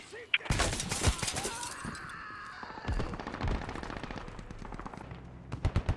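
Gunfire in the military shooter game Squad: sharp, loud bursts of automatic shots and scattered single reports, with voices talking over parts of it.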